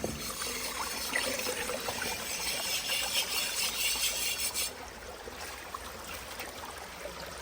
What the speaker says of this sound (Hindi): यहाँ पे झरना चल रहा था, ये झरना देख के हम रुके थे